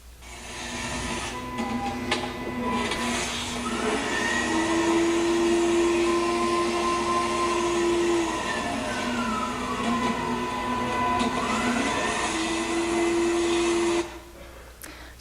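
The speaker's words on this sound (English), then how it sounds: "This is an industrial knitting machine made by a Japanese company called Shimaseki." A Shima Seiki industrial knitting machine, fed by cones of yarn, runs continuously with a busy mechanical whir and clatter. Sweeping tones rise and fall as the carriage travels back and forth, and the sound cuts off near the end.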